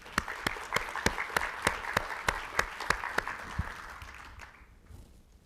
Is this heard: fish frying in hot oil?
no